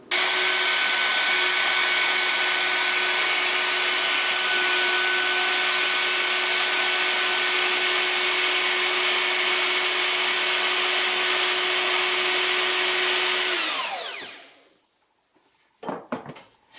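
A wood router lowers a section of a Shaker workbench's front vise part by 3.5 cm, giving a loud, steady whine with a hissing cut for about fourteen seconds before spinning down, followed by a few faint knocks.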